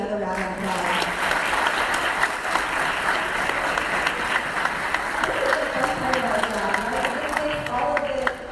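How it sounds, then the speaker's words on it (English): Crowd applause at a county awards night, sustained and dense for the whole stretch, with some voices and cheers mixed in. "Let's give everybody another round of applause"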